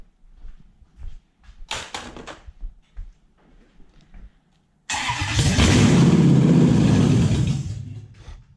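A Lexus 1UZ-FE V8 with a P1300/P1305 ignition fault: after a few quiet clicks and knocks, the engine suddenly fires with a loud, close roar, runs roughly for a few seconds and then dies away.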